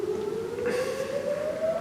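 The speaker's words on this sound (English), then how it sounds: "that siren is done now" A steadily rising siren wail, continuous and moderately loud, climbing slowly in pitch for the whole stretch with a faint wash of background noise.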